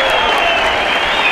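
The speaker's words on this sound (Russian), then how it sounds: "Первым свою порцию бурных оваций получил бронзовый призер Олимпиады 2016 Альберт Саритов." Stormy, sustained applause from a ceremony crowd honoring athletes, including an Olympic bronze medalist wrestler, a dense loud wash of clapping filling the whole moment without pause.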